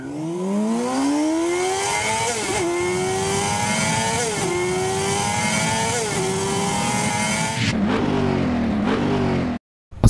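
A motorcycle engine revs hard and close, its pitch climbing and then dipping with each of several repeated throttle blips, ending in a rougher burst before cutting off abruptly.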